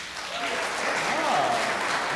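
An audience claps in a brief, moderately faint burst of steady applause lasting a couple of seconds, with no one speaking over it.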